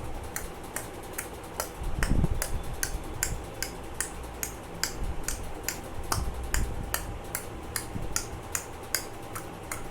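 Rapid tongue clicks imitating the tak-tak of a horse-drawn cart, a steady run of sharp close clicks repeated throughout with no talking; a voice imitates the clip-clop of hooves.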